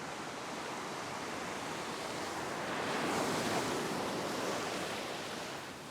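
Ocean surf breaking on a beach, a broad steady wash of noise that swells louder in the middle and then eases, with some wind mixed in.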